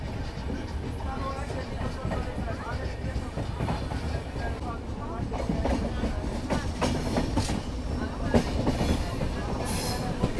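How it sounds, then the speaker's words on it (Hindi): Steady rumble and clatter of the New Jalpaiguri to Udaipur City Weekly Express passing through Dusera Ghat railway station, heard from inside a 2AC coach, continuous rolling noise with wheel rattles and faint voices. "इस वक्त हम लोग दुसेरा घाट रेलवे स्टेशन को क्रॉस कर रहे हैं।"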